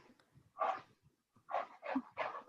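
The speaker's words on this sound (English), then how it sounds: "That's my dog outside the door." A pet dog waiting outside a door whimpers and pants, then lets out a series of short muffled barks and yips in quick succession, fairly faint and alone.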